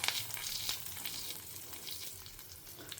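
Mustard seeds spluttering and popping in hot oil in a pan for a Brahmin-style brinjal gojju, a steady close crackling sizzle with sharp pops throughout and no talk.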